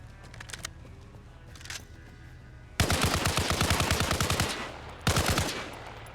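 Modded rifles fire in Arma Reforger: a few light shots first, then a loud, rapid burst of automatic gunfire, a pause, and another sharp burst, all close and punchy with no talking.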